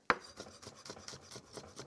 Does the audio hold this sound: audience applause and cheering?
no